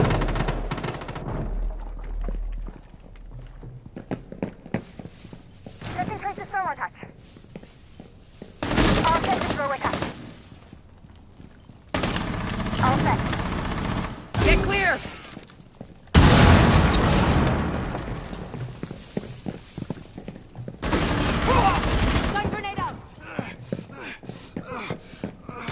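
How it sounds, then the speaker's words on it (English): A Rainbow Six Mobile match brings bursts of gunfire, a frag grenade blast and a flashbang, loud and clustered in several dense volleys separated by quieter gaps, with game voice callouts in between. "Frag on the way. Flash out. Throwing flashbang."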